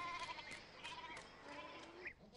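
Goats bleat faintly in a mountain pasture setting, a few thin, wavering cries rising over a dense murmur of background ambience, quiet and somewhat distant.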